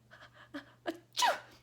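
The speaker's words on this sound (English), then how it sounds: "He sneezed, and he considered fainting." A single close sneeze at the end of a short burst of breathy, trembling sounds, loud and sharp against an otherwise quiet background.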